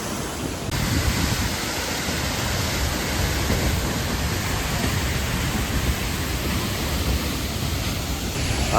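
An Icelandic waterfall pours as a steady, dense roar of rushing water, broad and unchanging from start to finish.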